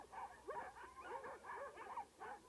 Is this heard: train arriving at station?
no